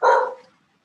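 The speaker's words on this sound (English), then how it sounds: "pardon my dog barking" A dog gives one short, sharp bark close by that fades quickly into silence, with no other sounds around it.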